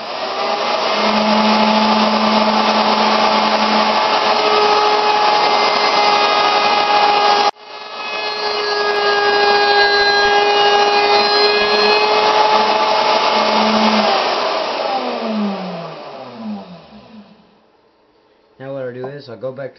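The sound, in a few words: wood router rounding over edges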